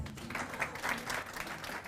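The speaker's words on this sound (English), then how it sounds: "A clap to Chris." An audience claps for a quiz winner at an integrity awards ceremony. The applause is a steady, dense wash lasting the whole stretch, moderately loud, with no talking over it.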